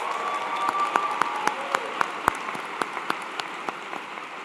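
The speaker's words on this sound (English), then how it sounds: "Give yourselves a round of applause." Graduates applaud at a university graduation ceremony at North Carolina State, a dense steady wash of clapping from a large crowd with a few sharper nearby claps standing out.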